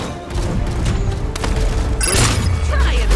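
A loud explosion bursts near the end after a stretch of rumbling game noise in Paladins, with a deep booming tail.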